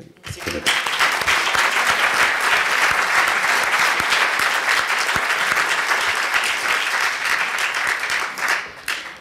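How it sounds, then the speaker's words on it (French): An audience in a French Senate hall gives sustained, dense applause. The clapping rises quickly and holds steady for about eight seconds before tapering off. "Les applaudissements signifient quelque chose."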